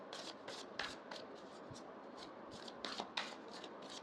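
Tarot cards shuffled by hand, a quiet run of quick riffling bursts with soft flicks and taps as cards are handled and drawn, close and fairly faint with no talking.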